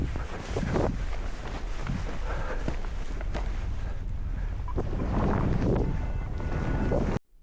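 During a paragliding race flight at the Dragon Hike and Fly, steady wind rushes and roars across the microphone in a dense, continuous blast that cuts off abruptly at the end.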